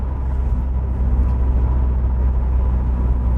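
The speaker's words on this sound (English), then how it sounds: "going along here now at 50-ish, it really is driving very well" Rover 25 Commerce van cruising at about 50 mph, a steady low engine and road rumble filling the cabin, even and continuous with no voices.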